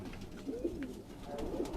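Pigeons coo softly on a rooftop in Quetta, making low, throaty warbling calls that come in a few gentle phrases over a faint background hum.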